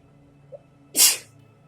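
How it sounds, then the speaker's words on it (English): A single sharp sneeze bursts out close to the mic, loud and brief, after a faint short vocal sound in a quiet room with a low background hum. "And I'm about to sneeze, 1 second."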